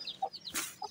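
A farmyard hen clucks close by in a pen at a rural homestead, giving several short, soft clucks, quiet and alone.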